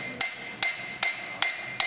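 A farrier's hammer strikes a horseshoe to set its clips, five sharp metallic blows at an even, steady pace, each ringing briefly before the next, close and loud with no talking.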